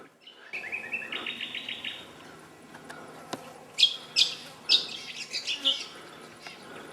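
Birds chirp and trill repeatedly, a run of quick rising notes followed by several sharp, bright calls, fairly close in a quiet outdoor bush setting near Mitchell Falls, Australia.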